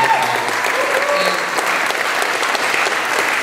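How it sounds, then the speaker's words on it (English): Audience at a county Democrats political rally in a historic building gives a round of applause, dense sustained clapping filling the room, loud and close with no pause. "So please, everybody, just give them another round of applause."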